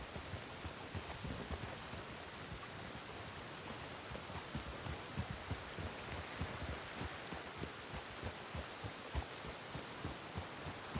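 Rain in the Western role-play video game Red Dead RP falls steadily, a dense wash of drops with soft thudding patter on surfaces, continuous and fairly close with no voices.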